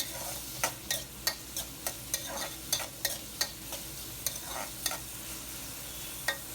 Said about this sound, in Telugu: ఒకసారి ఇలా మధ్యలో కలుపుకుంటూ కొంచెం మగ్గితే సరిపోతుంది